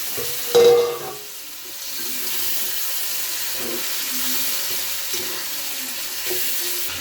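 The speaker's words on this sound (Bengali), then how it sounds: "এই যে মশলাটা আমার কষানো হয়ে গেছে, এখন দিয়ে দেবো মাংস।" Marinated mutton in sour yogurt goes into a pan of sautéed spice masala, giving a loud splashy hit near the start, then steady sizzling and stirring with scraping clinks.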